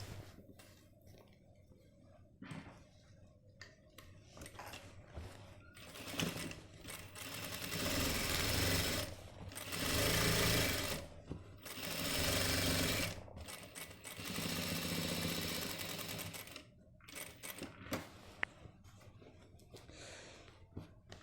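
An electric sewing machine stitches a side seam on a Modi-style jacket in several bursts of rapid, steady whirring, separated by quiet pauses while the fabric is repositioned.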